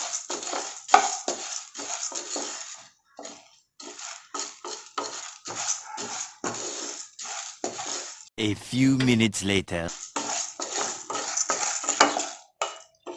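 Toor dal dry roasting in a pan on low heat, stirred steadily with a spoon: repeated scraping and clinking strokes against the pan, close and fairly loud, with a short burst of other noise midway and a brief spoken line.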